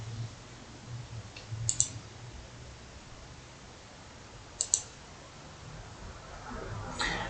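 Two brief, crisp computer mouse clicks a few seconds apart stand out over quiet room hiss, with a softer tick near the end.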